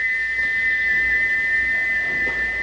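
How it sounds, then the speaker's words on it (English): A steam engine's whistle blows one sustained, loud, steady shrill tone without a break, held on while the valve is stuck open. "he wouldn't stop whistling until two fitters climbed up and knocked his whistle valve in place"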